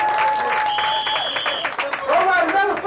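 Audience applause at a youth summit on nonviolence, steady dense clapping filling the hall, with a loud voice speaking over it throughout.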